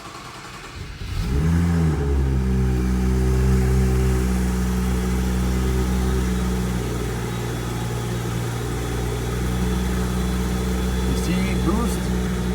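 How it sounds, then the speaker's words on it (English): A car's N55 engine cranks and catches on a cold start, then settles into a steady, loud idle with a deep, even drone that dips slightly and holds for the rest of the clip. "I'm going to start my car."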